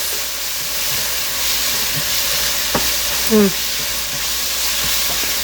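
Gongura chicken curry with turmeric fries over a medium flame while being stirred, a steady close sizzle with occasional scraping knocks of the spoon against the pan.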